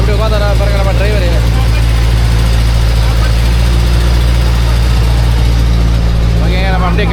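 A vehicle waiting for passengers near Kampong Phluk floating village, Cambodia, idles with a steady low engine rumble that holds throughout while a person talks over it nearby.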